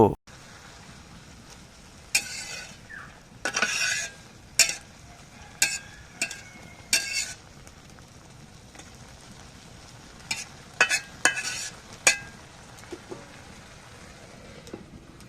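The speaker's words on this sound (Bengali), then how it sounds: "কিছুক্ষণ সিদ্ধ করার পর ঢাকনা উঠিয়ে শাকগুলোকে ভালোভাবে নেড়ে চেড়ে দেব" Kalai greens are stirred in a pan over a village clay stove: scattered spatula scrapes and knocks come in small clusters over a quiet, low background hum.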